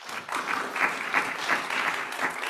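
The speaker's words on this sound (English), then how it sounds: "If you wish to applaud, do it." An audience claps steadily throughout, a close, sustained round of applause welcoming a local artist at a gathering, with faint voices underneath.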